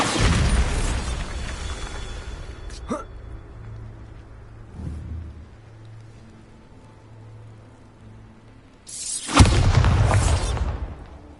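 Bombarda blasting spell going off in the Hogwarts Legacy video game: a loud booming explosion with a crashing burst at the start, a short sharp crack a few seconds in, then a second heavy blast near the end.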